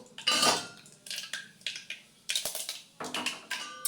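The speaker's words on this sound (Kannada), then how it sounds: "ಹಾಕಿದ್ಮೇಲೆ ಚೆನ್ನಾಗಿ ಒಗ್ಗರಣೆಯನ್ನು ಅಲ್ಲಾಡಿಸಬೇಕು" Spice tempering with curry leaves being stirred in a pan for chukke palya: a string of sharp metallic scrapes and clinks of a utensil against the pan, in uneven bursts, close and fairly loud, with no talking.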